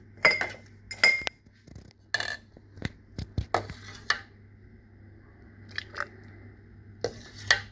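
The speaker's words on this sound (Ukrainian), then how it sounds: "Баночки, баночки, кришки стерилізовані." Sterilized glass jars and lids knock and clink together close by in a quiet kitchen, in scattered sharp taps and clatters separated by short pauses.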